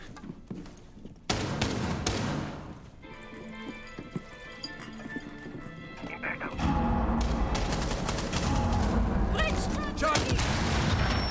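Gunfire and breach charges in Rainbow Six Siege during a collegiate match between Marietta College and Purdue University come as sharp bursts and loud blasts over busy game noise and footsteps, with players talking through it.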